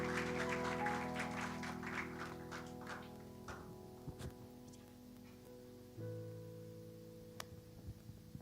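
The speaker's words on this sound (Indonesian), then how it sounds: "Mari kita berikan tepuk tangan yang meriah." A church congregation claws out a burst of applause over sustained instrumental tones, dense at first, then thinning out as the music carries on alone.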